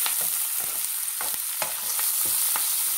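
Curry leaves crackle in hot oil with asafoetida while being stirred in a pan for tomato yogurt chutney, a close sizzling bed broken by several sharp spatula scrapes and pops, with no voices.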